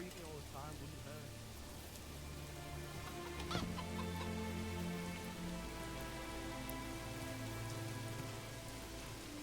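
Steady rain patters on surfaces in the medieval city-building game Manor Lords, a constant soft hiss with chickens clucking faintly underneath.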